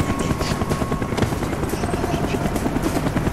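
Helicopter rotor thrum in Call of Duty: Black Ops, a steady dense chopping drone that holds for the full stretch, loud and fairly close, with no voices over it.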